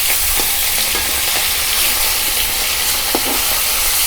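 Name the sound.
koi fish frying in oil in a wok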